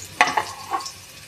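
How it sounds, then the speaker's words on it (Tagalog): Ginger and garlic being stirred in a hot pan for ginataang tilapia, giving a short burst of sizzle with a couple of quick spatula scrapes that then fades to a soft frying hiss. "Ayan, halu-haluin lang po natin mga ka-Unitics"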